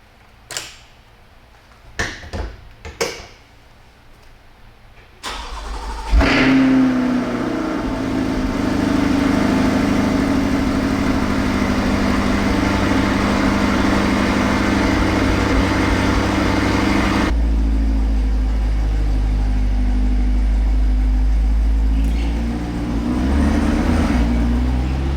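A Corvette is started with a push button: a few clicks and knocks, then the engine cranks and fires into a loud rumble that settles into a steady idle, with a brief surge near the end.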